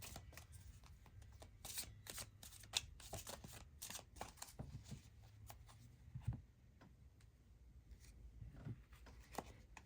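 A deck of Halloween tarot cards is shuffled by hand, quiet riffles and soft slaps coming in quick bursts close by with no talking.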